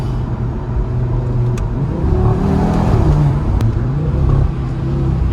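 A 2020 Audi RS3 accelerates hard in first gear from a rolling launch, its engine droning loudly and rising, heard close from inside the car as one sustained pull.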